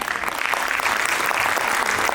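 An audience at a school function bursts into dense, steady applause, loud and sustained throughout with no talk.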